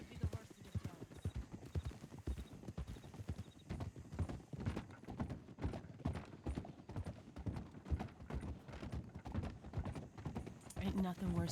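Horse hooves clip-clop steadily in a Red Dead Redemption roleplay game set in the Old West, a quick rhythmic stream of hoofbeats with a brief whinny, while voices talk over it throughout.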